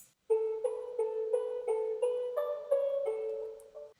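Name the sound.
synth arpeggio made from a Serum preset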